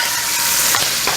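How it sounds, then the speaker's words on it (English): Sofrito frying in a pot, a dense, bright, steady sizzle with faint stirring scrapes, close and continuous, no talking. "Once the sofrito hits the pot"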